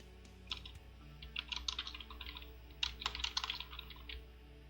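Typing on a computer keyboard while working in an Excel spreadsheet makes quick bursts of light key clicks in two runs with a short pause between them, close and fairly quiet.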